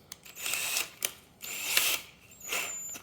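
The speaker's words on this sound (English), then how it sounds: "we'll need to drill, any brand, and we'll use this drill bit here" A power drill with a drill bit whirs in several short bursts of a few seconds each during a thread repair, separated by brief pauses, close by and with no talking.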